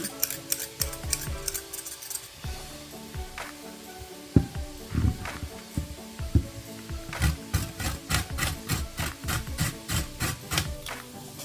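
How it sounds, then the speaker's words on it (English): Carrots being grated by hand for a semi-scratch pasta sauce, a run of rapid scraping strokes that pause briefly and then resume in steady rhythmic bursts, close and fairly loud. "But I don't like having chunks of carrots. I like to grate them."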